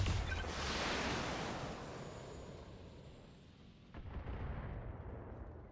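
Heavy mech weapons firing in the BattleTech video game, a loud booming blast that rolls and decays over several seconds, followed by a second rumbling impact near the end, with no talk.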